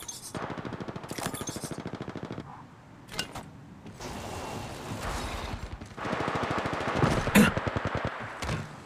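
Automatic weapons fire in the mobile battle royale shooter Apex Legends Mobile rattles in rapid sustained bursts, several long strings broken by short pauses and a few single shots, loud and close with no talk.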